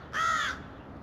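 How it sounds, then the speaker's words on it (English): A single loud crow's caw rings out nearby, a harsh nasal call lasting under half a second before fading into quiet outdoor ambience. "crows. Very smart birds."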